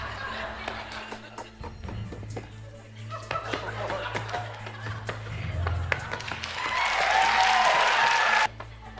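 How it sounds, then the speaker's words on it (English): Studio audience applause and clapping swell through a comedy game show segment built around a speed Jenga-style stacking game, with someone talking over it; the clapping grows louder and fuller toward the end before cutting off. "Why y'all clap for Alan Shit?"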